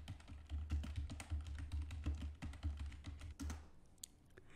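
Fast, close typing on a computer keyboard while entering a search into a web browser, a dense run of crisp key clicks that stops abruptly near the end.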